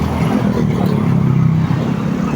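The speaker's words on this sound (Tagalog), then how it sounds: "Tatawid ako, daming sasakyan eh." Loud, steady roar of heavy street traffic with many vehicles rumbling past close by, a continuous low engine and tire wash with no pauses.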